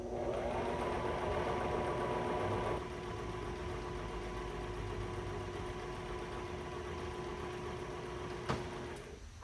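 A Brother sewing machine stitches a buttonhole, its motor whirring steadily and close. The pitch drops slightly partway through, and a brief click sounds near the end before the machine stops. No voice is heard.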